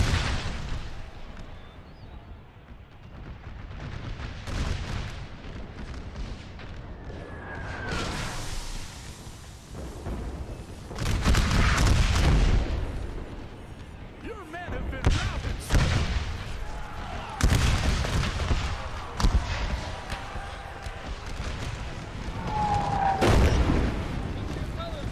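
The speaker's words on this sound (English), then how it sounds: "Like an artillery shot or something." Artillery booms in an American Civil War mod of Napoleon Total War at Gettysburg, several heavy blasts spread over the battle amid continuous rumbling gunfire, with voices talking over the din.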